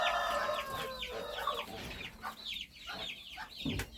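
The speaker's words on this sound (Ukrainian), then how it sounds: "Що це за такі маленькі курчаточка?" Young chicks and older chickens in a backyard coop cluck and peep in quick, overlapping calls, close by and fairly loud, with no talking.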